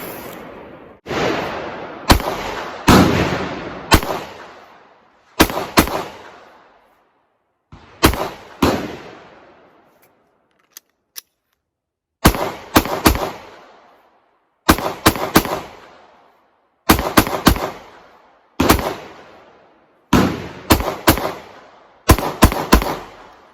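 A Glock 48 MOS pistol with a Holosun 507K sight firing in sharp, loud close-range bursts of two to four shots, separated by short pauses and echoing outdoors.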